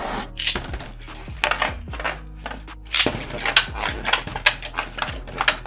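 Beyblade Burst spinning tops are launched into a plastic stadium and battle, giving sharp clattering collisions, scraping spins and bursts of metallic clicks in irregular clusters, loud and close.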